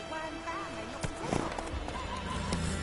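Roach, a horse in The Witcher 3, whinnies with clip-clopping hooves over a steady game ambience, the neigh rising and falling under a constant wash of background sound.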